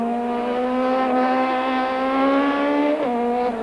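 A 1991 four-wheel-drive rally car enters a stadium stage in front of spectators, its engine droning loud and steady with a rising pitch, then dipping sharply near the end as the driver lifts or shifts.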